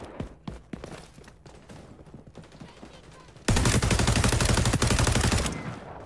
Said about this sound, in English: I missed all of those shots, for real.